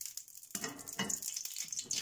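Shredded Chinese cabbage hits hot vegetable oil in a frying pan, a sudden sizzling hiss that starts after a brief pause and continues in crackling bursts, close and fairly loud.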